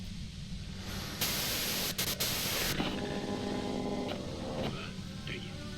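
Dense white-noise static hisses steadily through the Disco Elysium video game, swelling into a brighter, harsher burst partway through before settling back to a constant loud wash.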